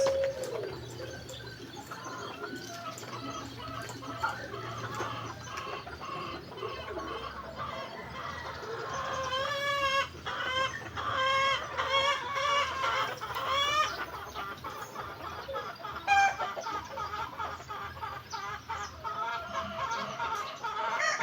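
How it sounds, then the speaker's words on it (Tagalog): Chickens cluck continuously at close range, a busy overlapping chorus of hens with an occasional rooster note, no talking. "Marami akong manok na manhito guys."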